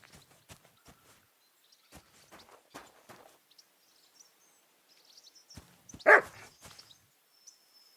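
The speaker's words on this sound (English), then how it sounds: "Barking?" In Kingdom Come: Deliverance II, a single dog bark rings out at moderate distance amid sparse, quiet footsteps and faint ambient sounds.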